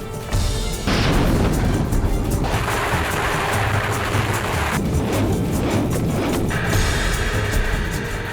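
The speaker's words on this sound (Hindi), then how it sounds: "और इसी ठिकाने पर महातबाही का बारूद बरस रहा है" Continuous heavy rumbling blasts and booms from explosions at the Belgorod Russian military base near the Ukrainian border, loud and sustained throughout with roaring low-end bursts and no speech.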